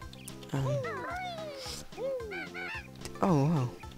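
Squawking bird cries from the Nintendo 64 game Banjo-Kazooie as the bird attacks, a rapid series of honking, goose-like warbling calls, loud and close, filling the whole moment with a few accented bursts.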